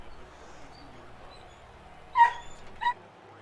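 A couple of short dog barks or yips sound in the background of a house as someone arrives home, two brief bursts over quiet room noise.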